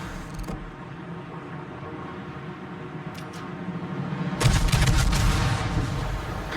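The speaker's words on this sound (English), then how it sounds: "Why are people shooting at me?" Naval gunfire in a warship video game battle, a low rumbling background that swells into a heavy booming barrage partway through, loud and sustained.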